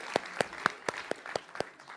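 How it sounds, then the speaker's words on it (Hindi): About seven sparse, separate claps ring out in a debate studio after two speakers finish. They are moderately loud and evenly spaced, like a thin round of applause. "ताली बजाइए दोनों के लिए"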